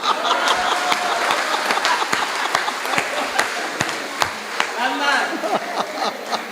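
An audience at a Hindi comic poetry show claps in a loud, scattered burst with sharp individual claps. Voices murmur under the clapping throughout.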